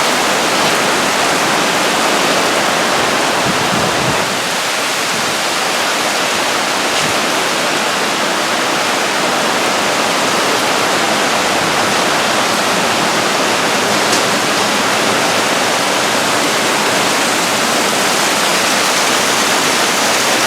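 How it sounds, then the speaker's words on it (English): Heavy storm rain overflows the gutters of a house in a loud, continuous rushing roar of pouring water that holds steady throughout with no talk. "Look at that, the gutters can't handle it,"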